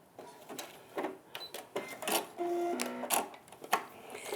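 Sewing machine stitching a default test stitch while appliqueing a block, close bursts of rapid mechanical whirring and clicking that start and stop in short runs, with a brief motor whine between them.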